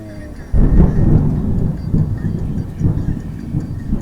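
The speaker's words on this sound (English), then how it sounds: "I think we're going to have a big storm" A sudden loud crack of thunder from a storm rolling in over rural farmland in Thailand, followed by long low rumbling that swells and fades in waves, close and heavy with no talk.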